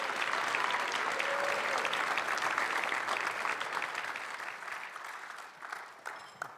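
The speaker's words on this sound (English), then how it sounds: "So please, a round of applause for Stephen Burghardt." An audience at a chess hall of fame induction ceremony applauds a speaker coming up, a dense, steady round of clapping that gradually thins and fades toward the end.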